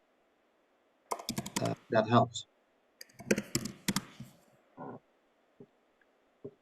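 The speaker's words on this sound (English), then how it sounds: "so we hear you all typing" Typing on a computer keyboard comes through an unmuted participant's microphone during an online lecture. Bursts of quick clicks and taps are heard, and a voice briefly speaks among them.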